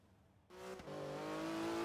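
A Porsche GT2 RS in Forza Horizon 3 kicks in with a sudden engine drone, holding a steady tonal hum as pitch climbs slightly at speed, a brief shift blip midway, then continuing loud and unbroken with no voices.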